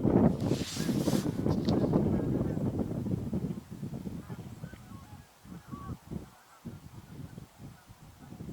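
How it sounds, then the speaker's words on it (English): Canada geese honk loudly nearby amid gusty wind noise, the calls fading into scattered rustles and quieter movement. "Here in the air, it sounds like a cannon goose nearby."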